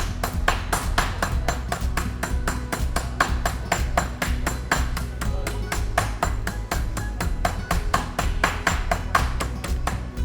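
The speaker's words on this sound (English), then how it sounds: "Now with a hammer, we have to just make it flat" A hammer pounding a chicken breast flat inside a butchery bag, with rapid, steady, sharp thuds repeating evenly throughout, close and loud.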